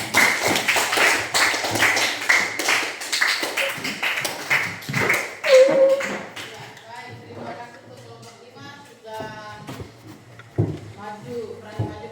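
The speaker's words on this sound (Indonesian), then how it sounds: "boleh tepuk tangan dulu untuk kelompok 5" A classroom group claps for group 5 after its presentation, a brief burst of scattered hand claps over the first several seconds that gives way to a speaking voice with occasional taps.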